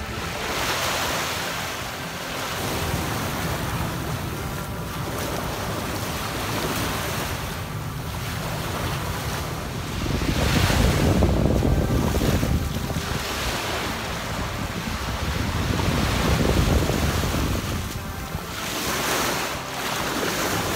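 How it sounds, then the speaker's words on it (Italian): Surf breaking on a Sardinian beach near the Tharros archaeological area at San Giovanni di Sinis, a steady wash of waves with wind buffeting the microphone and swells building louder around the middle. "Eccoci arrivati nello spiaggione di Paros."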